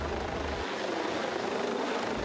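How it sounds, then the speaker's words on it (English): A helicopter hovers overhead during a rescue training exercise, its steady, loud rotor and engine roar filling the whole clip with no voices. "Too noisy once the helicopter is overhead to really have a conversation."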